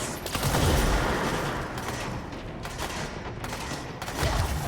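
Rapid volleys of rockets firing and bursting in a video game battle, loud dense crackling blasts in overlapping bursts with deep booms near the start and end.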